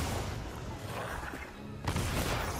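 Dense, continuous booming and crackling blasts from Monster Hunter Wilds fill the clip, with a sharp fresh burst near the end; game-like explosions with no clear talk.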